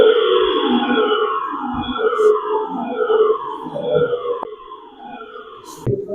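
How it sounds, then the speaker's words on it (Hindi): A siren wails to start a fire safety mock drill at a training institute, repeated rising and falling sweeps sounding steadily and fairly loud, with a couple of brief clicks and no speech over it. "सायरन बजाइए।"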